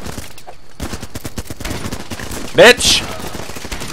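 Rapid gunfire in the video game Running With Rifles, a dense burst of sharp cracks at close range, with someone shouting briefly over the shooting.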